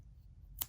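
Scissors snip crochet yarn in a single short, crisp cut near the end of a quiet moment.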